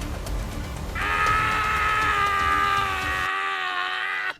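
A drawn-out, wailing scream, used as a sound effect in a Hindi horror story, rises over a low rumbling bed and holds loud and shrill for about three seconds before the background cuts away, leaving the cry alone until it stops abruptly.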